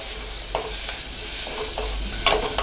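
Whole small shallots sautéing in oil with asafoetida for moong dal sambar, soft sizzling under several quick scraping stirs of a spatula in the pan, no voices.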